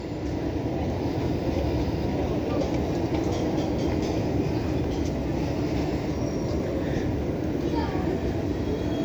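KRL commuter train rumbling steadily at Manggarai station platform, a continuous loud low roar of wheels and carriages throughout, with people talking in the background.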